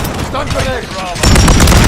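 A video game stun grenade goes off amid gunfire, a dense burst of loud cracks and shots that swells sharply in the final stretch, with voices in the mix.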